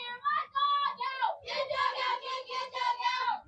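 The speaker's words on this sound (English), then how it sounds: "Our team is cheering and excited and engaged." Youth 12U baseball team chanting and cheering together in the dugout during a game, high young voices in a rhythmic group chant, fairly close and clear.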